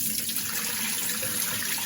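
Rice for makgeolli being washed in water, a steady close rush of running and sloshing water with no pauses.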